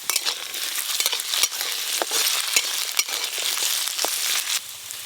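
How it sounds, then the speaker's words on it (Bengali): Diced potatoes fry in mustard oil, a steady close sizzle with scraping stirs throughout, no voices. "আলুগুলো বেশ লাল লাল করে ভেজে নিয়েছি"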